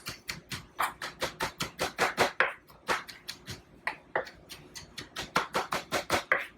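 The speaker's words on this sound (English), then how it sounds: "So that parsley and green onion, I want to chop it up fairly good" A kitchen knife chops parsley and green onion on a cutting board in quick, steady strokes, with crisp close taps that pause briefly now and then before resuming.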